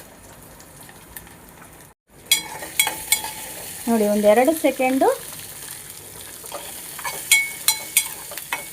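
Green chillies sizzle and crackle in a hot pan for a Karnataka-style drumstick-leaf dish, a loud frying hiss swelling after a sharp start with stirring clatter, while someone speaks over it.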